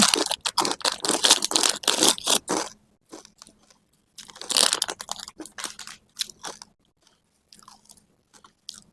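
Fatty Thai pork cracklings are crunched while eating, producing loud, close, rapid bursts of crisp chewing that come in clusters with short pauses, tapering to sparser bites near the end.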